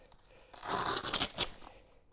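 A zipper is pulled open on a fabric seat cover for a Tesla Model 3: one quick, raspy, close-up zip lasting about a second, with no speech.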